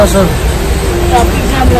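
Steady road rumble heard from inside a vehicle stuck in a rainy traffic jam on a trip through Gujarat, a dense low engine and traffic drone with people talking over it.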